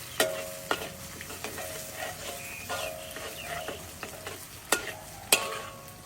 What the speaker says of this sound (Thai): เราก็ผ่ากระเทียมกับพี่โสเนี่ยเจียวให้มันหอมๆกรอบค่ะ